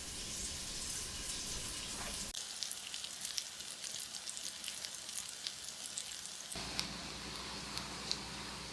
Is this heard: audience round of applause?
no